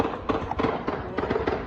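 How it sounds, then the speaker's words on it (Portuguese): Rapid bursts of popping gunshots, many cracks in quick irregular succession, dense and echoing, an exchange of fire at moderate distance in the Mangue Seco area. "uma intensa troca de tiros foi ouvida por moradores na região de Mangue Seco"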